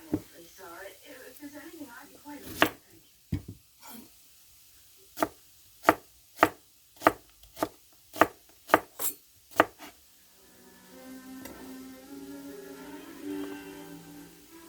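A knife chops onion on a cutting board in a run of about a dozen sharp, evenly spaced close taps, with quiet talk and kitchen rustling before and after.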